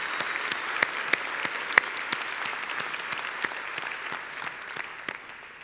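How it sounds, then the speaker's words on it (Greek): A conference audience at a Microsoft Summit gives warm applause, a moderate wash of many hands with a few sharp distinct claps standing out, slowly thinning toward the end. "Παρακαλώ πολύ ένα θερμό χειροκρότημα για τον Σάκη"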